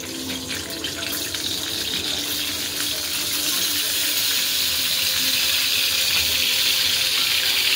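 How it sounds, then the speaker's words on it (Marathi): Eggplant pieces dropped into hot oil for a Marathi-style vangyachi bhaji fry with a dense, rushing hiss that builds and holds steady, loud and close with no voices. "आता आपल्याला एक एक तेलात सोडायचे।"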